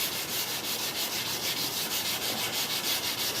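Close, steady back-and-forth rasping as 220-grit paper is rubbed by hand along an aluminum rain gutter laid flat, the strokes coming in a quick, regular rhythm without any talking.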